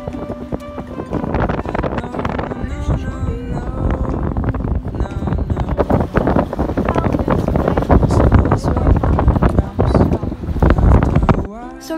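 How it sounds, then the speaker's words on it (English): Strong gusty Tropical Storm Claudette wind buffets the microphone in loud, roaring bursts, with clattering and rustling underneath throughout. "The winds have been kicking up."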